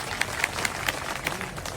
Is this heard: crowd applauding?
yes